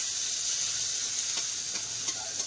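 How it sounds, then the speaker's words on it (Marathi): Onion frying in a pan for dal khichdi, a loud steady sizzle with occasional soft stirring scrapes, close up and without talking. "आता कांदा टाकून घेऊया. कांदाही चांगला लाल होऊ दे."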